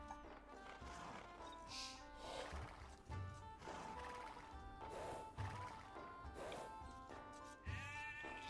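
Sheep bleat repeatedly in an Age of Empires–style strategy game, short calls scattered over a steady bed of game music and horse-like neighs, with no talk.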